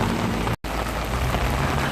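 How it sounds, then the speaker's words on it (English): Heavy rain pours onto a flooded street, a dense, loud, continuous hiss and splatter that cuts out for an instant before resuming, with no voices heard. "Very wet. Raining."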